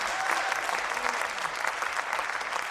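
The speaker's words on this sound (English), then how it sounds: "let's give a round of applause to all the musicians" Dense audience applause after a high school fall concert of instrumental music, a steady wash of many hands clapping at fairly close range, with no speech over it.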